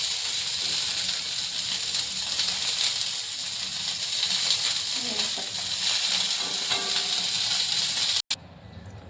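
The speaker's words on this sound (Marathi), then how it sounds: "तेल टमाटा आणि मिरची भाजून घ्यायची आहे" Tomato and chopped chillies sizzle in hot oil, a continuous soft hiss and crackle that holds steady before stopping abruptly near the end.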